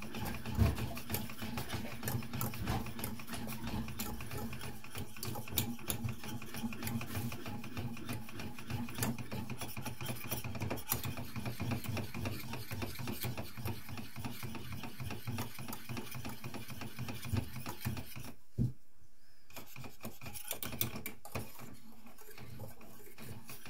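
Strawberry coulis heating in a pan is stirred, a steady scraping and clinking rhythm against the pan over a constant hum, continuing with a brief pause near the end.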